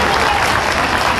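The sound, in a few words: applause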